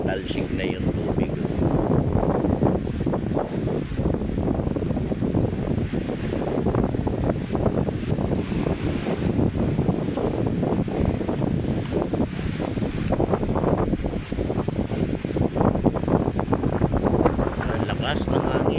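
Sea waves surge and splash against the shore at Manila Bay on a blustery morning, with steady roaring wind buffeting the microphone throughout; a voice talks intermittently over the continuous wash.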